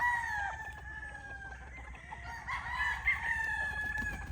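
A rooster crows in long drawn-out calls while other chickens cluck nearby, no talking.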